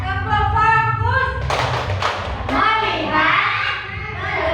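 Children in a classroom perform a rhythmic clapping routine, a burst of quick claps followed by another clap cluster, with a teacher's voice talking over the pattern.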